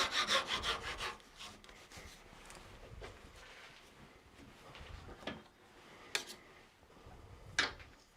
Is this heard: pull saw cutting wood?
yes